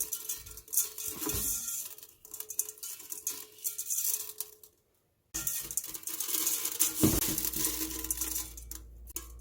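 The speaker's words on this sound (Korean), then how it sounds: "나머지 소금까지 이렇게 위에 뿌려서 하루만 절이겠습니다" Salt sprinkled over radish sitting in brine for pickled radish, a scattered granular pattering and light rattling, close and fairly quiet, with a short silent break midway.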